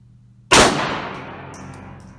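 Single sharp gunshot from a Bersa Thunder 380 Plus blowback pistol, a loud close crack that rings out and decays slowly into the surroundings.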